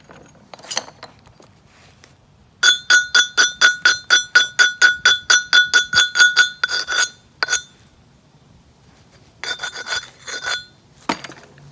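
A large piece of Georgetown flint is struck by direct percussion knapping, giving a rapid, even run of about fifteen sharp, ringing clinks, then a couple of isolated hits and a short closing burst, close and loud with no talking.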